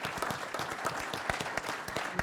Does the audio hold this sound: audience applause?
yes